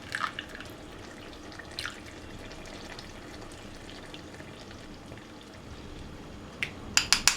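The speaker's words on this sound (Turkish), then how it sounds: "kavrulan etlerin üzerine kenarda beklediğimiz sumak suyunu ilave edeceğiz süzdürerek" Sumac water strained over browned meat frying in a pan for Diyarbakır-style meftune, a steady sizzle with dripping and a few bright splashes at the end.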